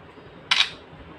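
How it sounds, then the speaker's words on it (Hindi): A Realme GT 2 smartphone's camera shutter fires once, a single short, crisp click that stands out sharply against near silence. "एंड बैक फ्रंट कैमरे की फ़ोटो क्लिक करके दिखा रहे हैं"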